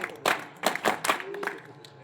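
Audience applause at a village ceremony, a brief burst of close clapping from a small crowd that rises quickly and thins out, with some voices mixed in.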